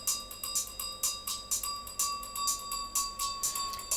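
A rapid, steady series of bright metallic electronic bell hits in a club music track, with a sustained ringing tone beneath, repeating evenly throughout at moderate volume.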